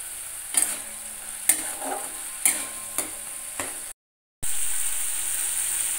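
Brinjal korma masala with yogurt stirred and sautéed in a pan: a steady frying sizzle with several scraping spoon strokes, then a brief gap before the sizzle returns louder.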